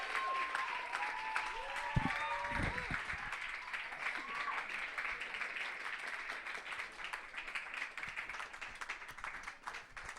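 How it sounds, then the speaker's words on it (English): Comedy club audience at a stand-up show in New York breaks into sustained applause and clapping that carries through the whole stretch, with a few voices and whoops mixed in near the start. "Clap for Johnny."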